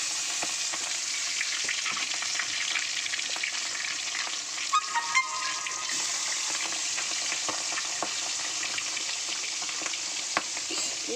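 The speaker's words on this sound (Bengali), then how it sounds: "মাথাগুলো একটা ভেজে নিয়েছি আর এই যে ভাজা বসিয়েছি।" An egg and fish heads fry in oil in a pan, giving a steady, close crackling sizzle throughout, with a few brief clinks of stirring midway and no talk.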